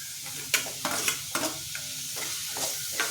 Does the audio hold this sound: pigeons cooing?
no